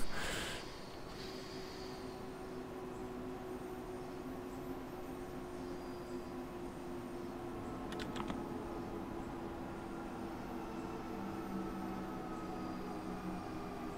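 A steady low rumble of an S-Bahn train rolling alongside in the video game Train Sim World 2, with a constant hum and faint rhythmic clatter, a brief squeal near the middle; no one speaks.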